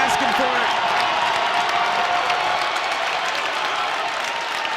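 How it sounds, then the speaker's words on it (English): Crowd at a boys' high school basketball game in Wheeling cheering and applauding steadily throughout, a dense roar of clapping and voices holding even in loudness, with a commentator speaking over it. "Crowd rocking here at Wheeling."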